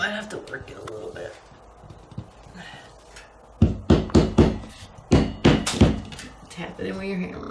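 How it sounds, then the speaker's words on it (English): A hammer taps a plastic anchor into a drilled hole in a garage wall for a storage rail, making about eight sharp, close thunks in two quick groups after some talking. "Tap it in with your hammer."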